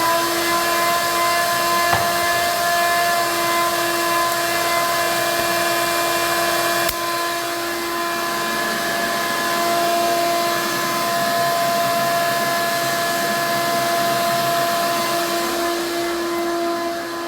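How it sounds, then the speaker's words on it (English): A vacuum cleaner sucking chaff out of a coffee roaster after a Kenyan city roast, a loud steady motor whine with a constant tone running throughout, with one small shift partway. "I'm actually going to vacuum this out."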